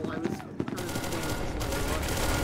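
Rapid bursts of gunfire from the video game SCP: Secret Laboratory, dense overlapping shots running continuously at close range and fairly loud, with faint voices underneath.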